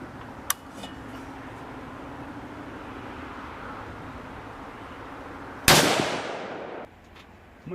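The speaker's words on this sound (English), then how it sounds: "I'm gonna shoot some fruit." A single sharp gunshot rings out at a target range with a long decaying echo trailing off over about a second, preceded earlier by a faint distant crack over steady outdoor ambience.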